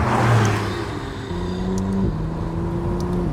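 A McLaren Artura Spider sports car drives along a country road, its engine giving a loud, steady close-up drone with a brief shift in pitch partway through and no talking.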